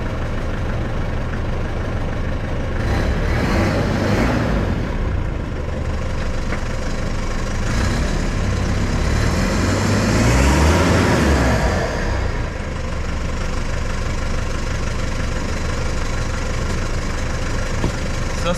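A Nissan Navara engine idles low and steady, then swells into a louder, throatier rumble as the truck begins to roll forward, close and continuous.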